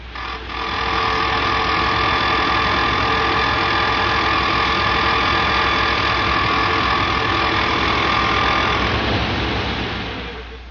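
A Volkswagen engine fitted with a bent fan runs continuously, a loud idling drone with a faint whirring tone and light vibration, heard up close, with no speech, before the sound fades out at the end.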